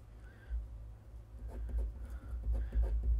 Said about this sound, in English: So if I want to record myself writing something, writing my name,